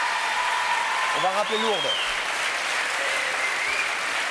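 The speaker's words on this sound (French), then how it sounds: "Mais on vous applaudit quand même" A TV studio audience applauds steadily throughout, a continuous bed of clapping while someone speaks briefly over it in the middle.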